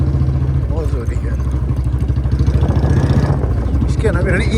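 Royal Enfield Bullet motorcycle engine running on a road past fields, a loud close thumping idle with a fast steady beat, with someone talking over it.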